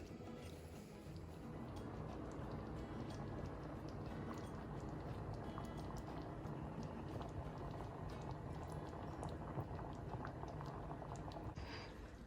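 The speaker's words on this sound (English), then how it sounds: "then let it simmer on really low heat for half an hour" Homemade gravy simmers on very low heat with a soft, continuous bubbling and faint popping, steady and quiet throughout with no talk.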